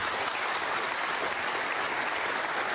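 Snooker crowd bursting into steady, sustained applause after a century break at the English Open, dense clapping filling the whole moment without any voice over it.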